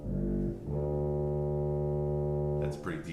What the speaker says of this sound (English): 16-foot bombard in the pedal.